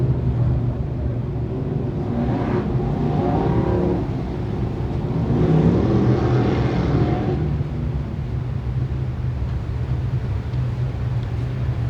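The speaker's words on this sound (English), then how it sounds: "Whitesboro Plow Shop Dirt Car 350 Modified is ready to go trackside now for the first of 2 heat races" Dirt Car 350 modified race cars roll out at Can-Am Speedway for an eight-lap heat race, a steady loud engine rumble with swelling revs throughout, no talk.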